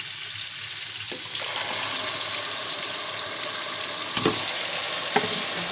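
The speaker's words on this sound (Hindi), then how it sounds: "अब हम इसमें तेल शामिल करेंगे, और इसमें अपनी प्योरी शामिल करेंगे।" Tomato puree sizzles steadily in hot oil in a pan for Changezi chicken, a continuous close frying hiss with a couple of soft stirring knocks near the end.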